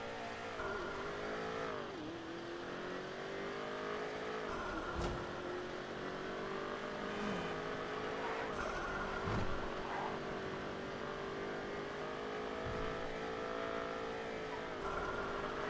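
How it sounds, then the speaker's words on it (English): Car engine in the GTA RP video game drones continuously, with revving and shifting pitch and occasional sharp bumps, steady and close with no talk. "Car change sound."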